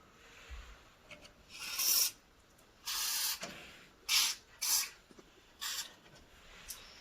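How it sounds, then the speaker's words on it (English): A lubricant spray can hisses in several short bursts over garage door joints, each spray a few tenths of a second to a second long, close and fairly quiet against low background noise. "Just go with the light spray in each of the areas where you have"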